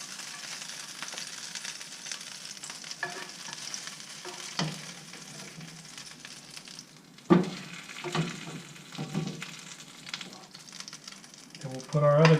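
Pecan crusted speckled trout fillets sizzle steadily in a hot pan, with a continuous broadband fry, a few sharp clatters as fillets are set down, and brief scraping moments toward the end.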